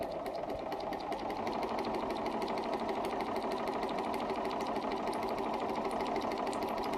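A Bernina 930 sewing machine runs steadily while stitching curves, a close, rapid, even mechanical rattle at constant speed with no talking.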